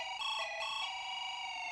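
A telephone rings with a steady electronic ringtone, a bright buzzing tone rich in overtones with slight changes in pitch, loud and continuous with no voices over it.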